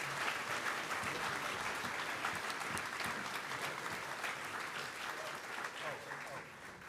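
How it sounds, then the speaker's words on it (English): An audience at a symposium applauds the panelists, a dense, sustained wash of clapping from many hands that holds steady and slowly tapers toward the end. "Round of applause for our panelists,"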